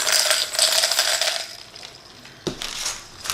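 Small bells tumble and jingle as they are dropped into a plastic sensory bottle, a bright rattling cascade that fades, then another short metallic clatter.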